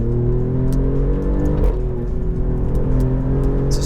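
Alfa Romeo Giulia GTAm engine pulling hard in dynamic mode, a loud, close, sustained rising drone with layered harmonics climbing in pitch, briefly dipping at a shift before building again.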